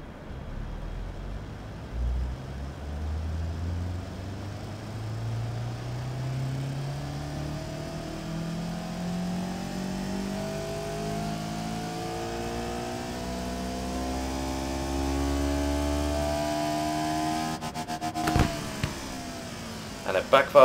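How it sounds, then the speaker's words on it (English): A simulated engine in an engine-design game, running 95 RON fuel on a dyno, whines steadily higher through its rev range, holds buzzing at the rev limiter, then cuts off abruptly with a few crackling pops. "we now have it holding on the rev limiter up at the top of its rev range on the dyno run"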